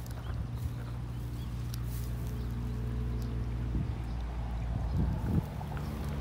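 Water runs steadily down into a drainage pipe at the edge of a Thai rice field, a continuous low rushing flow with an outdoor hum and a few faint knocks, no talking.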